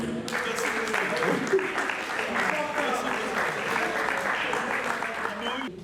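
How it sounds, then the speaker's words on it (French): Guests at a 30th anniversary celebration for the COCOM applaud together indoors, a steady wash of clapping with murmuring voices underneath that fades slightly at the end. "On va l'applaudir."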